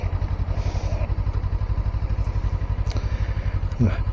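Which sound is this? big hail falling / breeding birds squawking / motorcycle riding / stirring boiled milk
motorcycle riding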